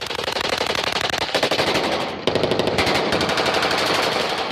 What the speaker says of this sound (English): Dramatic new battlefield video appears to show the intense firefight with ISIS that killed an American Navy SEAL in Iraq